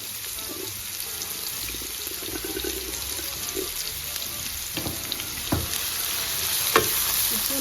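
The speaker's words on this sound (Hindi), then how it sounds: "इसको थोड़ा सा सौते करेंगे।" Onion and capsicum sauté in a pan, giving a steady close sizzle and frying hiss with occasional stirring scrapes and taps, and no talk over it.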